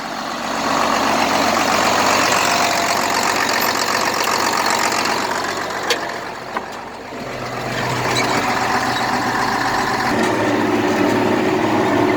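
Hay mower running through a field of knee-high grass, a loud steady engine drone with a brief dip partway through, close and continuous.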